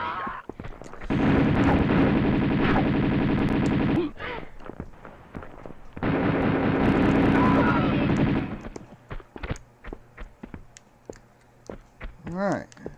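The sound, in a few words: gunshots from the video game Tomb Raider 2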